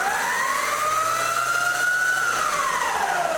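An electric dirt bike bought cheaply online accelerates in sport mode, its motor whine rising steadily in pitch, holding high, then falling slightly, loud and close throughout with no talk.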